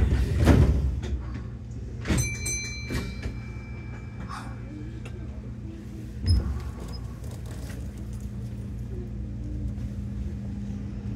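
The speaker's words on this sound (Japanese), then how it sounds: "扉が閉まります。" The sliding doors of a Kintetsu 6419 series local train on the Minami Osaka line thud shut with a couple of clunks, amid beeping chimes and a low cabin rumble at a station.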